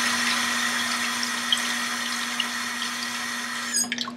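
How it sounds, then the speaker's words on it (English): Hot tap water runs into a bowl in a steady, even rush with a constant low hum beneath it, and a few splashes and clinks come near the end. "putting hot tap water into a bowl"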